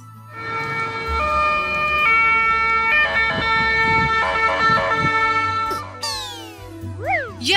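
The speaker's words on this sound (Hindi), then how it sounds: "white ambulance," A white ambulance sounds its siren in a steady two-tone pattern over engine rumble, loud and close, ending with a few quick rising yelps; no one speaks.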